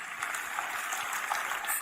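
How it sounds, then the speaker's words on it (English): A church congregation claps its hands for Jesus, a steady, dense wash of applause filling the space at even loudness throughout. "Shall we put our hands together for Jesus?"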